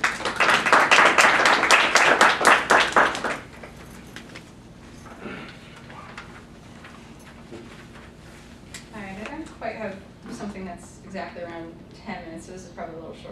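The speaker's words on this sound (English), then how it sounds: "Give her a round of applause." An audience at an alumni reading gives a short round of applause for a reader, a bright burst of many hands clapping that fades after a few seconds into quieter room sound and talking.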